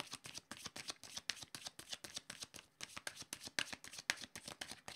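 Tarot or oracle cards shuffled by hand for a card reading, a rapid run of crisp riffling flicks and slaps in an irregular rhythm, close and fairly quiet with no voices.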